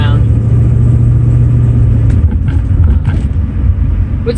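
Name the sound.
1963 Ford Falcon car driving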